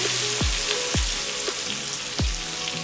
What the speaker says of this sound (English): Fry nicely